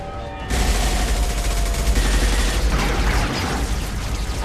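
Dense sustained gunfire from a firefight in Mass Effect 2, loud and continuous after a brief quiet start, with heavy booming low end and rapid overlapping shots.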